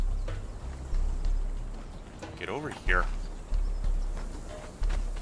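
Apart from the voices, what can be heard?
horse hooves clip-clopping in Conan Exiles video game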